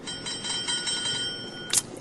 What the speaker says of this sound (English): ring the bell, Robbie.